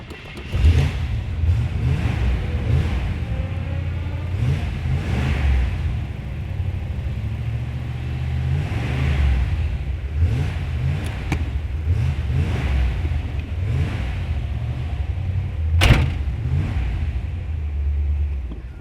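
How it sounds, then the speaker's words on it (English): A 1969 Chevrolet Nova muscle car warming up, its V8 burbling in a steady lumpy idle with periodic throttle blips, loud and close, with no talking. "let this car warm up."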